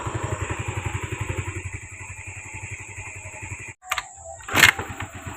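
A Yamaha Mio i125 motor scooter with no battery putters in a fast, steady rhythm nearby, then cuts out, followed by a short clatter and a brief burst of noise.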